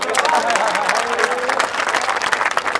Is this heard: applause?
yes